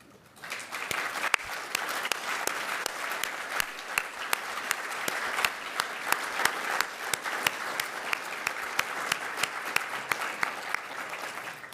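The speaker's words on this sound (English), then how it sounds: "I do think you need a round of applause." A keynote audience at a transportation safety conference breaks into applause: a warm, steady wall of clapping that starts abruptly and holds evenly for about eleven seconds, with sharp individual claps standing out.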